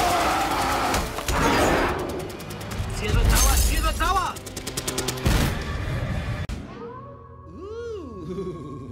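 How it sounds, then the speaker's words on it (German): Film-scene gunfire, rapid loud bursts like automatic weapons crackling over a roaring background, followed by whooshing, sweeping effects. "Ziel wird beschossen."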